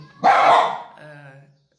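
A single dog bark, close and loud, with a short trailing whine as it fades out.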